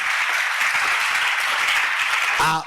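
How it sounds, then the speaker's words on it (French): A church congregation at a Sunday service applauds loudly and continuously, dense clapping filling the room, with voices briefly rising at the end. "Acclamons très très fort le Seigneur Jésus"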